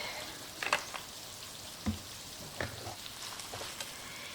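Soft, steady sizzling of a ground beef kebab frying in oil in a pan, with occasional louder pops and crackles and a few light utensil taps.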